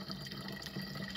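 Water runs steadily at a mine spring at night, a soft continuous trickle with no talk over it.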